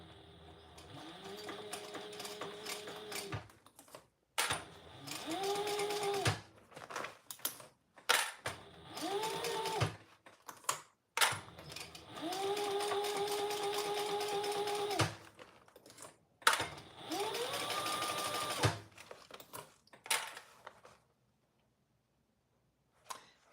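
A sewing machine stitches a fabric seam in several runs of a few seconds each, its motor whirring up to a steady buzzing hum and then stopping. Short clicks and handling noises fill the gaps, and the recording goes quiet at the end.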